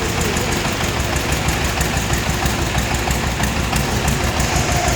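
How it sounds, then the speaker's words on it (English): A mini tractor engine runs steadily close by with a constant low rumble and rapid knocking pulses, loud and unbroken throughout, with no talking. "Now our engineer is debugging the mini tractor, and he will drive the tractor now."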